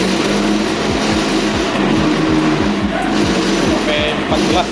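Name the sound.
Honda Beat carburetor motorcycle engine revved with throttle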